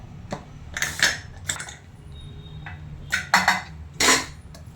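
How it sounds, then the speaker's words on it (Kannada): A pressure cooker lid being opened after cooking vegetable pulao, heard as a series of sharp metallic clanks and scrapes in quick bursts, close and fairly loud, with quieter gaps between. "ಈಗ ಕುಕ್ಕರ್ ಲಿಡ್ ಓಪನ್ ಮಾಡ್ತಾಯಿದ್ದೀನಿ."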